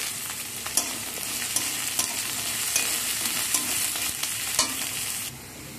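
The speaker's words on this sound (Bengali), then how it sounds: "এখানে আমি ক্যাপসিকামটা দিয়ে দিলাম, কারণ ওটাও তো ভাজা হতে সময় লাগবে" Capsicum sizzling in an oily pan of frying onion, cumin and chilli, a dense continuous hiss with several sharp spatula scrapes and taps, close up and unvoiced.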